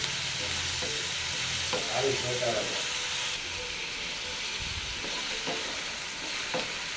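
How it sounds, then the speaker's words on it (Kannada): Two chopped onions frying in oil until golden brown give a continuous close hiss and sizzle, with a few soft stirring knocks now and then. "ಇದು ಗೋಲ್ಡನ್ ಬ್ರೌನ್ ಬರೋವರೆಗೂ ಫ್ರೈ ಮಾಡಬೇಕು."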